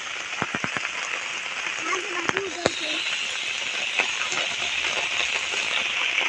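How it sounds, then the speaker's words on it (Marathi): Heavy monsoon rain pours steadily over paddy fields during rice planting, a dense continuous hiss with a few sharp taps and knocks, while people talk nearby. "एकदम थांबला नाही पाहिजे पाऊस, कंटिन्यू पाहिजे दिवसभर"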